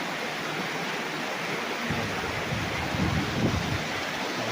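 Steady rushing river water with a strong current flows continuously with a broad wash of noise, fairly close, with some low rumbling gusts toward the end, beside a farm lot in Majayjay, Laguna.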